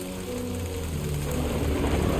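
Rain and thunder in the video game Death Stranding 2: a continuous heavy rain hiss with a low rumble swelling gently toward the end, no voices over it.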